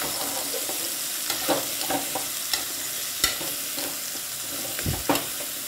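Boiled chickpeas stirred in a frying pan, giving a constant hissing sizzle broken by repeated light scrapes and taps of a spoon at irregular intervals throughout, close and moderately loud, with no speech.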